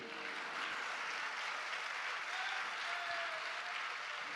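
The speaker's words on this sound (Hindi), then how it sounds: "तालियां नहीं बजाइए आप।" A large congregation at a Jain religious discourse in Jabalpur claps continuously, a steady, dense wash of applause that stays even in level for the whole stretch without any voices over it.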